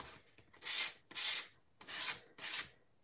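Art media scraped across an art journal page, four separate rough scraping strokes in a loose rhythm, close and fairly quiet, with nothing else heard.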